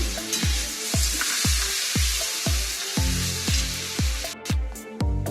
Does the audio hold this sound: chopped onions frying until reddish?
yes